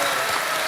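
Studio audience applause on a televised quiz show, a dense, steady wash of clapping held at an even level for under a second.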